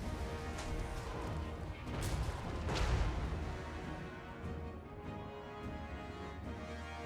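Artillery bombardment rumbles in a Total War: Warhammer 3 siege battle, with crashing impacts swelling in the middle under a steady wash of battle ambience and music.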